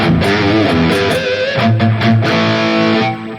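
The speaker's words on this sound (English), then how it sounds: "Nice crunch tone with a little bit of delay." Crunchy electric guitar from a Valeton GP-200 patch, with a distortion block ahead of the amp model and a touch of delay, plays loud sustained chords and riffs with no voice.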